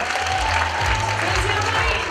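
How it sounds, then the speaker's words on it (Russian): Audience applause at a junior KVN comedy league final, a brief burst of clapping from the crowd heard under and alongside a speaking voice and low rumble. "Аплодисменты ему."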